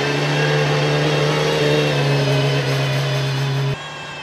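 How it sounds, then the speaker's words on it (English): An Aston Martin Valkyrie V12 hypercar moves on its electric motor while the engine idles, producing a loud, steady, close droning hum with a tonal whine that cuts off abruptly near the end. "So the engine's running, yeah, but it's not powering the car."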